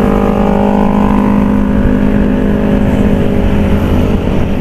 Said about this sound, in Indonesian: Tuh, rame cuy. Para pengguna roda 2 ya cuy.